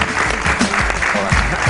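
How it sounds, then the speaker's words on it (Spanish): Audience applause greets a prehistoric-art museum director arriving onstage for an interview, with steady, dense clapping filling the room at close range, a few voices faintly mixed beneath. "Un fuerte aplauso para él."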